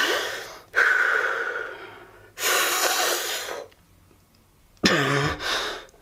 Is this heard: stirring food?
no